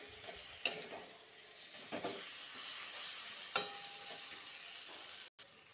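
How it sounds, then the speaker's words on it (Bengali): Green chili paste and cumin paste fry in a pan for a fish and bottle-gourd-shoot curry, giving a soft, steady sizzle broken by a few sharp clinks of a spatula against the pan. "কাঁচা লঙ্কা পেস্ট আর জিরার পেস্ট দিয়ে আবার ভালো করে ভাজবো।"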